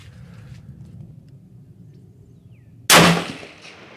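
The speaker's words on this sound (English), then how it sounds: "Let's go ahead and shoot 5 more." A single loud, close Howa 1500 rifle shot in 6.5 Creedmoor with match ammunition cracks suddenly after quiet background hum, then decays over about half a second.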